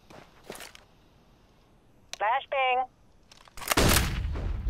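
CS:GO gunfire rings out in sharp bursts, opening with a few shots and ending in a loud cluster of gunshots, with a voice heard in between.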